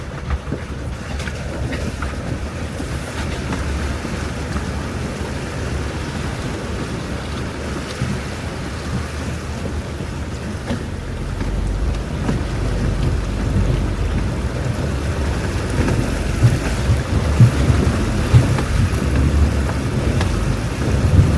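Off-road vehicle in two-wheel drive pushing through a deep muddy water hole on an island trail, a continuous loud rushing and sloshing of water under the engine that swells and grows rougher toward the end.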